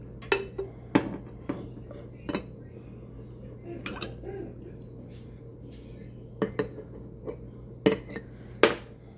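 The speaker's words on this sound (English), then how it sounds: "So I'm going to pour my boba into my glass." Boba pearls poured from a jar into a drinking glass, giving a string of sharp glassy clinks and knocks scattered through the pour, with quiet rustling between them.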